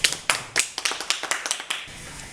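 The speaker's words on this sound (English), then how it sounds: "May you please give yourselves a round of applause." Scattered claps from a small audience at a talk on HR challenges, a few sharp near hand claps in uneven rhythm that thin out and fade after about two seconds.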